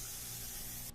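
An HVLP spray gun sprays Ultra Ever Dry coating in a steady, even hiss that holds constant, then cuts off abruptly at the end, with no voices.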